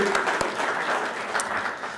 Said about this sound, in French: oui, on peut l'applaudir aussi.